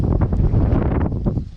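Gusty wind buffets the microphone at a campsite, a loud low rumbling rush with uneven bursts and faint rustling, easing slightly toward the end.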